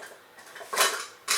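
MSR Titan titanium kettle of about 800 milliliters being handled, giving two bright metallic clanks and rattles close up, with no talking.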